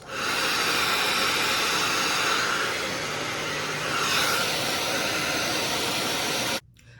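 A blow dryer runs at a steady, loud whooshing hiss while drying a closure quick-weave, with a slight dip in the middle as it moves around the hair, and it cuts off abruptly near the end.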